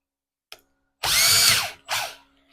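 Ryobi power drill driving screws into wood, two loud bursts of motor whir, the first about three-quarters of a second long, the second shorter, after a faint click.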